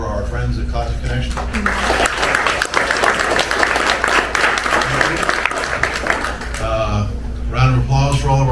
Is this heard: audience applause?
yes